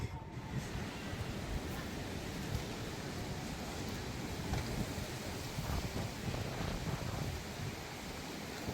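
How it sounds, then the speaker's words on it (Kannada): A strong windstorm roars across a rooftop terrace, a continuous broad rushing noise with gusty buffeting against the microphone throughout. "ಬಿರುಗಾಳಿ ಬರ್ತಾ ಇದೆ. ಬಂತು ಕ್ರೇಜಿ ಗಾಳಿ"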